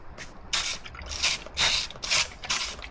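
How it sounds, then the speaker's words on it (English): A big spray bottle of interior cleaner is pumped onto a grimy BMW E93 M3 car seat, giving five crisp close spritzes in a quick, uneven rhythm. "the seat's pretty gnarly, so we're gonna hit it with the big spray bottle."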